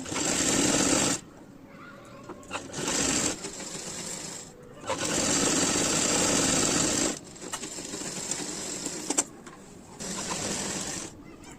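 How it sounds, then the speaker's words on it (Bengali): A sewing machine stitches the border of a nighty in several bursts of fast, steady whirring, separated by short pauses, heard up close. "বর্ডারটা উল্টো দিকে বসিয়ে সোজা দিকে ঘুরিয়ে সেলাই করব।"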